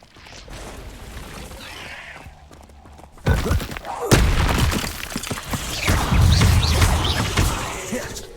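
Confringo blasting spells exploding in Hogwarts Legacy on PS5, a loud booming burst followed by sustained rumbling blasts and crackling debris that keep going, heavy and close.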